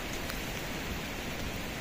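Monsoon rain falls steadily in a hilly valley, a continuous dense hiss with no distinct drops, loud and close.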